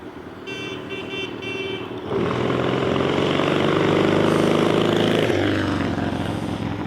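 A motorbike passes on a street in 1994, its engine droning louder and nearer from about two seconds in and then holding steady as it goes by, with no talking.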